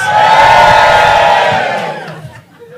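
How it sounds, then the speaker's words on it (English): A live comedy club audience erupts in loud cheering and whooping, a dense crowd roar that holds strong and then fades away toward the end. "give me a cheer if you know what a negative is"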